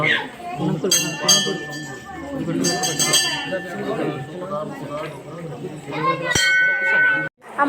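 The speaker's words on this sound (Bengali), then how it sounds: "আর আমি ঘন্টাটা বাজাচ্ছিলাম" A metal temple bell at a Kali temple in Tajpur near Digha is struck repeatedly in clanging, ringing bursts with a lingering tone, amid crowd chatter and voices.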